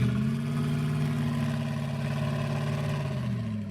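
Gumper Apollo car engine in the Roblox game Driving Empire, a steady low, buzzing idle with strong rumbling harmonics, loud and close, with no other sounds.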